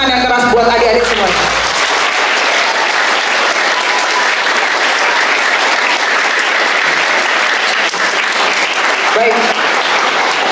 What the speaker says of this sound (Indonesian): Tepuk tangan yang keras buat adik-adik semua.